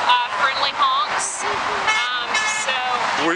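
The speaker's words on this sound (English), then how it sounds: "lots of friendly honks" Car horns honk in short bursts from passing vehicles at a roadside demonstration, several toots sounding fairly close amid traffic noise while people talk throughout.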